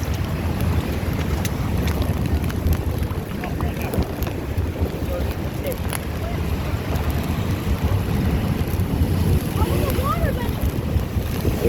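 Heavy ocean waves surge in during the worst flood since 1978, rolling in continuously with strong wind buffeting the microphone, a steady loud roar of surf and gusts.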